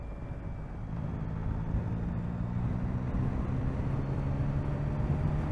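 A 2024 Yamaha MT-09 motorcycle ridden in a high gear at lower speed, its engine giving a steady, low droning hum with a smooth tone under buffeting wind noise, continuous and close, no voices.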